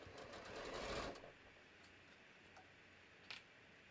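A sewing machine runs in a steady burst for about a second, stitching a half-inch seam around the circular crown of a fabric bucket hat, then stops and leaves quiet room tone with a couple of faint ticks.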